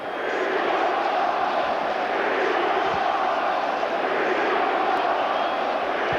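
A stadium crowd at a 1988 Monday Night Football game between the Buffalo Bills and New York Jets roars in a steady, distant wash of massed voices, chanting blurred into a continuous din.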